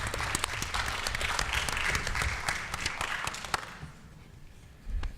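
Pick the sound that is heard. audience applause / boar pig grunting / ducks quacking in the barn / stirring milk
audience applause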